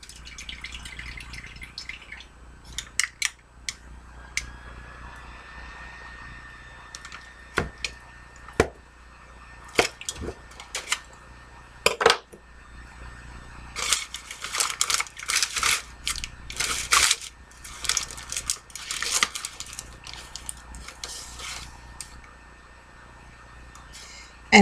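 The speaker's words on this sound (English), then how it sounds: "And a knife, and I'm going to cut my piece off right now." A knife cutting into a piece of cake, soft clicks at first and then a burst of squishy, crumbly cuts, close and fairly quiet with faint background hum.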